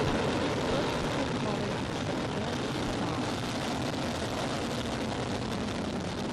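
Epsilon-3 solid-fuel rocket lifting off from Uchinoura Space Center in Japan, carrying the ASNARO-2 radar satellite: a steady, loud, dense broadband roar that holds unbroken throughout.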